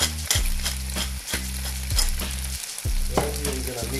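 Penne coated in pesto is stirred in a frying pan, giving a rhythmic series of scraping, clacking strokes over a constant close sizzle, with no voices.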